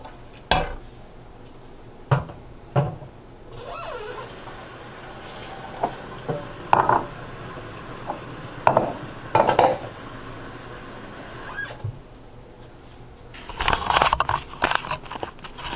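Hard candy mixture being stirred in a pot, with scattered scraping and clinking of a utensil against the pan, intermittent strokes and a louder rattling burst near the end, no voices.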